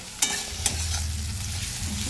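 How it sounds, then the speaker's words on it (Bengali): Ginger and garlic sizzle in a hot pan, a close, steady frying hiss with two quick scraping knocks of a spoon near the start. "আদা রসুনটা একটু ভাজা ভাজা হোক"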